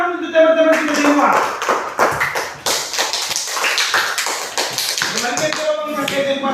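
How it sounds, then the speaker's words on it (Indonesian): Classroom students clapping hands during a lesson: a lively, uneven run of claps and taps from a small group nearby, with voices talking around the clapping at the start and end. "tepuk tangan untuk teman-teman kita semua"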